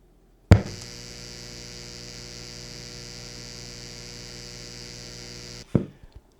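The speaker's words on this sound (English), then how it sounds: "just a very small, barely perceptible hum" Steady, faint electrical hum from the AC inverter output of a CyberBox 3000 portable power station, beginning and ending with a soft click and holding level for about five seconds with no voices.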